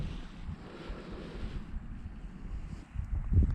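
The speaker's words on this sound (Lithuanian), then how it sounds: "Vėjas sukilo" Wind gusts over open water during a fishing outing, buffeting the microphone with low rumbling bursts that swell near the end, heard close and without talk.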